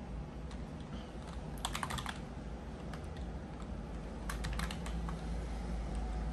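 A login password is typed on a computer keyboard while installing VMware ESXi on a Mac Mini, giving two short bursts of quick, close key clicks over a quiet room hum.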